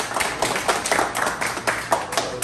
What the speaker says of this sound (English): A round of applause just for that.